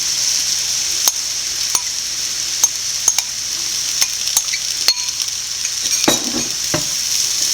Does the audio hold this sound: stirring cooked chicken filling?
yes